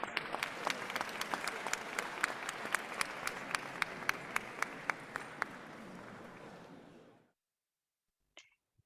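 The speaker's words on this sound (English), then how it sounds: "a big round of applause" A crowd applauds steadily for about seven seconds, with a few sharp claps standing out, then the clapping stops abruptly and silence follows.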